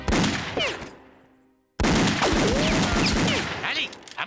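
Cartoon gunfire from a Lucky Luke Western episode set in the Far North, loud bursts of shots crackling over busy music and effects, dropping to near silence for a moment before a sharp blast and more shooting resume.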